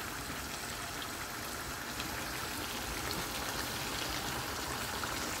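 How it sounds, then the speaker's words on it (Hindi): Two spoonfuls of water poured into sizzling masala in a pan while cooking chicken and chickpea curry, a continuous hissing, bubbling sizzle at steady level throughout with no talk. "ये 2 चम्मच पानी डाल रही"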